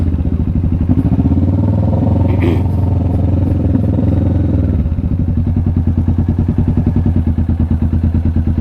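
A motorcycle engine idles and pulls steadily through a slow, tight U-turn on a residential street during food delivery rounds, its close, loud rhythmic thrum changing pitch partway through with a few clattery thumps.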